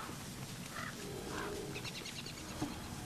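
A tallbird creature in the game Don't Starve Together gives a few short, low, squawking growls amid faint background game noise, fairly quiet with no talk.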